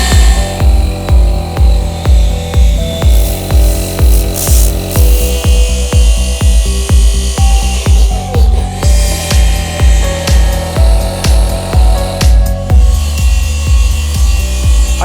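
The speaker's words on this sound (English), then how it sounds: "Anssi is with the small machine doing the small areas on the first step" A small polishing machine buffs car paint on a Volvo 940, a loud, steady mechanical whir with a rapid rhythmic pulsing and grinding rub as the pad works over the panel, continuous throughout with no talking.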